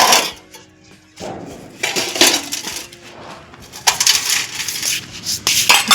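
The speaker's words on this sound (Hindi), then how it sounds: "चलते हैं, बर्तन साफ़ कर लेते हैं" Dishes, pots and pans being washed by hand in a home kitchen, with repeated clinks, clatters and scraping of metal utensils coming close and fairly loud in irregular bursts, with no talking.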